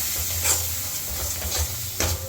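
Sea crab with turmeric and Kashmiri chili powder sizzles in a hot pan while being stirred, a close steady hiss with a few scraping strokes and a low background hum.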